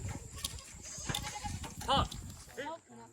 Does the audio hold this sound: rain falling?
no